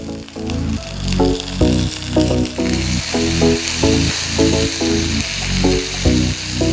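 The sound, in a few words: cumin, pepper and curry leaves sizzling in sesame oil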